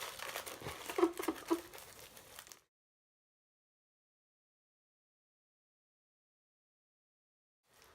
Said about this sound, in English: We got our aluminum foil.